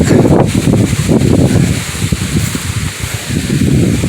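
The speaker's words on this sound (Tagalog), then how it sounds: "Kaya medyo lumalakas ng hangin eh" Strong wind gusts across a hilltop summit, a loud rushing roar buffeting the microphone in uneven surges with rustling underneath and no voices.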